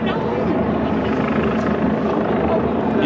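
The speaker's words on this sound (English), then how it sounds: "there's hundreds of helicopters" Helicopters circle over a St George's Day street event with crowds and police, a loud, continuous rotor drone that fills the whole stretch, with voices faint beneath it.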